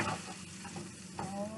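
Sausages sizzling in oil in a skillet while being stirred, a steady close frying hiss with soft scraping movements and a brief brighter crackle near the end, no voices.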